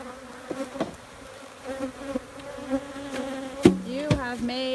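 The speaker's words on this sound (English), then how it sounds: "You have made some very angry bees." Angry honeybees swarm around a hive during queen removal, a dense close buzz with several individual bees droning loudly past, plus a few knocks from handling.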